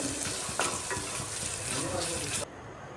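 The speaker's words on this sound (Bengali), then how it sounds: "পেঁয়াজটাকে ভালোভাবে ফ্রাই করে নিচ্ছি একটু হালকা হালকা ফ্রাই করতে হবে" Chopped onions fry lightly in hot oil for chowmein, a steady close sizzle with a few scraping stirs, cutting off abruptly near the end.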